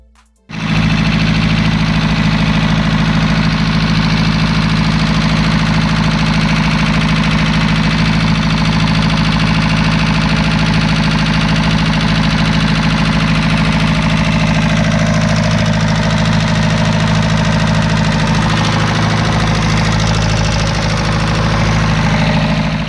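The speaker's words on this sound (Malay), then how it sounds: "memang kalau first start tu untuk enjin yang pakai lifter lah, dia akan bising" A Proton Satria 4G93 engine, just overhauled, idles loudly and continuously on its first start, with a steady rapid ticking clatter of lifter noise running through the hum.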